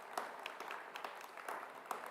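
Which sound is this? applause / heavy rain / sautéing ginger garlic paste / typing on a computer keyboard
applause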